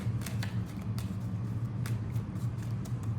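A worn tarot deck being shuffled at close range, with soft riffling rustles and card flicks that repeat steadily over a low background hum.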